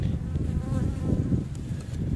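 Honeybees buzz steadily at a hive fitted with a formic acid pad under a rack, a close, continuous low drone with no voices.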